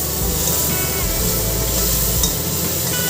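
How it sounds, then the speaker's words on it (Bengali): Mustard seeds, dried red chillies and spices fry steadily in hot oil in a home kitchen pan, giving a continuous close sizzle with stirring scrapes and no talk. "মশলা সর্ষা আর শুকনো লঙ্কা দিয়ে দিলাম দিয়ে মশলাটাকে ভাজা ভাজা করে নিচ্ছি"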